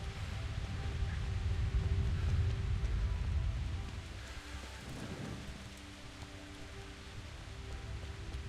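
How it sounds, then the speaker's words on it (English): Steady rain hisses throughout in the video game Kingdom Come: Deliverance, with a low rumble of thunder swelling early and fading, then a softer crackle mid-way. "Prayed for rain, didn't you?"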